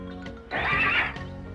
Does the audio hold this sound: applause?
no